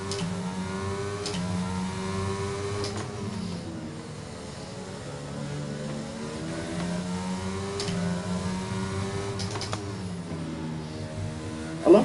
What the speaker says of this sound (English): I love how the Williams sounds, I'm not going to lie,